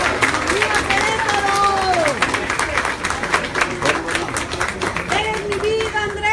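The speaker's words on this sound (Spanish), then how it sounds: "Vamos a darle un aplauso." Crowd applause at an outdoor political rally for López Obrador in Dolores Hidalgo, Guanajuato, during the Grito celebration. Continuous clapping is mixed with shouting and cheering voices across the whole stretch.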